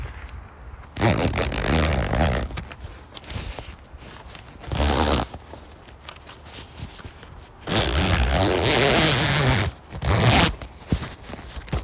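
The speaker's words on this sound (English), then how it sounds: "And we just zip this side on here." Side panel of an 8 by 8 by 6 foot car tent on a Honda Element being zipped on, giving several bursts of close, rasping zipper and fabric scraping separated by quieter handling.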